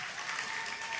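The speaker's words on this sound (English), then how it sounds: "Can we please get a round of applause" Audience applause at a masterclass Q&A session, a dense steady wash of clapping that fills the whole moment with no voices over it.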